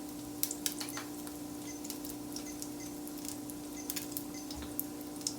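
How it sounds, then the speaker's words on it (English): Jambalaya mixture simmering in a covered pan on low heat, giving a steady soft sizzle with faint scattered ticks and pops under a constant low hum. "I'm going to cover the pan here, and I'm going to drop the heat to a simmer."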